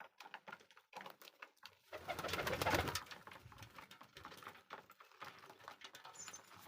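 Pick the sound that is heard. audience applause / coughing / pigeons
pigeons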